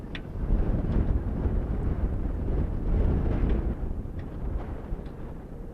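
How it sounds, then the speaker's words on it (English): Blustery wind buffets the microphone at an outdoor baseball game in a continuous roaring rush, swelling and easing in broad gusts. "Wind gusts again."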